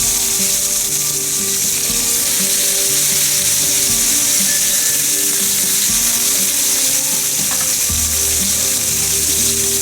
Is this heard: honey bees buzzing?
no